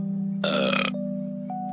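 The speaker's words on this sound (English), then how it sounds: "Who just burped?" A single loud burp, likely an alert from a livestream, rises briefly over a steady electronic hum in the background.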